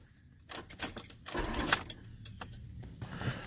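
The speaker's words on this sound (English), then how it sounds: "I'm gonna bump the starter a couple times" A car starter being bumped a couple of times on a misfiring car, giving short bursts of cranking and whirring separated by pauses, with a longer cranking burst in the middle and faint rattles between.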